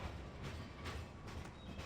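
A train in Farming Simulator 15 pulls away with a steady rumbling rail roll and faint rhythmic clacking, fairly loud and continuous throughout, with no talking.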